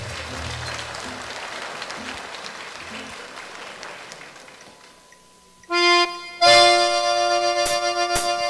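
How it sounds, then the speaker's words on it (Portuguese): Broad crowd applause at a Christmas special TV show for a sertanejo duo, steady and dense, fading after about five seconds as the band's music comes in. "vamos aplaudi-los"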